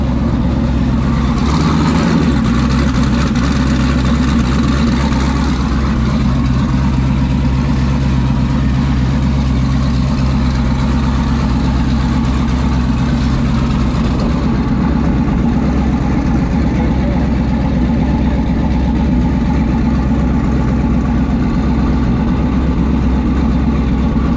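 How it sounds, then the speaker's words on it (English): A mini jet boat engine drones steadily and loudly throughout, a constant low mechanical hum with slight shifts in pitch, no voices. "We are moving in the Piranha boat."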